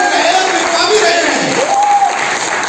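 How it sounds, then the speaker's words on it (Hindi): Audience applause fills a school event in Khurja, a dense, steady wash of clapping that holds at an even loudness throughout, with a few voices faintly mixed in. "ताली पालीबाजी के लिए तो होनी चाहिए,"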